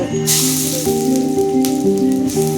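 Ginger and garlic hit hot groundnut oil for crab kuzhambu and burst into a sharp hiss that settles into a steady close sizzle, with a sustained tonal melody playing over it.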